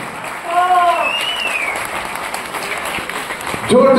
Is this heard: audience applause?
yes